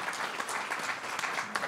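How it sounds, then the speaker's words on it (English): Conference audience applauds the event organizers, a steady dense wash of many hands clapping at moderate volume with no talk over it. "so please give them a round of applause."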